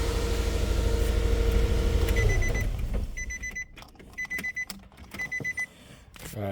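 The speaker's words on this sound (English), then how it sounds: "Sorry about the beep" Repeated short electronic beeps from a diagnostic scanner hooked up to a Nissan Xterra with a flashing engine light and a shimmy, sounding in clusters over a low engine hum after a louder stretch of engine noise.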